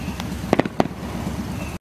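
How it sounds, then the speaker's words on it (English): Fireworks pop overhead in a quick cluster of sharp cracks and booms, some distance away over a low steady background hum, with no voices. "at least we came to see the fireworks for you"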